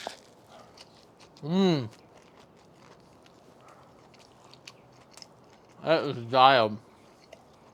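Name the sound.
biting and chewing a patty melt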